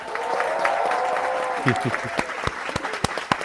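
An audience applause sound effect plays loudly at first, then thins into scattered individual claps, with a voice talking over part of it.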